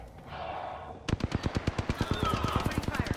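Rapid automatic gunfire in the battle royale game Apex Legends on PS4, a steady train of close, loud shots starting after a second of muffled ambient noise, with no talk over it.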